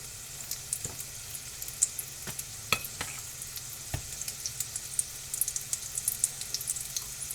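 Potatoes fry in a skillet with a little oil, giving a soft steady sizzle with scattered crackles and a few sharp clicks and scrapes of a utensil, close and fairly quiet, with no talking.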